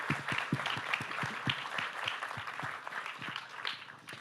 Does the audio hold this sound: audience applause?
yes